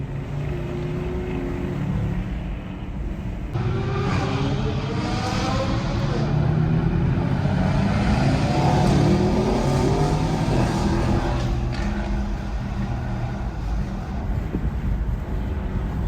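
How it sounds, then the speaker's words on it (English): A turbocharged sports car engine roars and revs at a supercar rally, a loud sustained drone with rising and falling pitch sweeps and a shift in tone partway through, close and dominant, with faint voices underneath. "you can hear the turbos"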